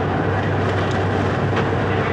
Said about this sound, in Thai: อันนี้ก็จะเป็นบรรยากาศภายในรถรถไฟนะครับ